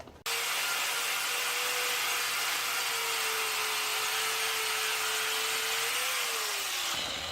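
An abrasive tool grinds oxidation scale off a steel billet being prepared for Damascus knife forging, a steady loud whine with a faint high tone, sustained for about seven seconds before stopping abruptly.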